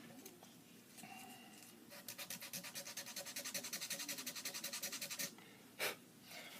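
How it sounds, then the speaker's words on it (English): A very fine tooth file rasps across a kit guitar body in quick, even back-and-forth strokes, a steady run of about two dozen close, scratchy passes before stopping, with a single louder stroke just after. "This is a very, very fine tooth file. Sandpaper just wasn't cutting it."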